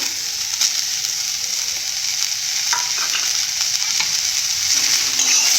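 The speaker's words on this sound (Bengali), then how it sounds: "প্রথমে শুকনো কড়াতে ভালো করে ভেজে নেব" Garlic and ginger fry in a pan for a soybean and potato curry, a steady loud sizzle with occasional stirring clinks and scrapes, close and continuous with no talking.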